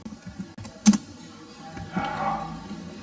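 Keystrokes on a computer keyboard, a few soft taps followed by a brief louder burst of typing and then a lighter run of keys, close and quiet with no talk.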